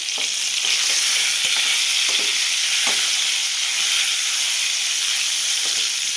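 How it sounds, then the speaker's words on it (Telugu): Brinjals cooking in a pan being stirred, a loud continuous hissing sizzle with occasional scrapes of the spoon, close up and without talk. "ఇప్పుడు ఒకసారి కలుపుకుందాం వంకాయల్ని."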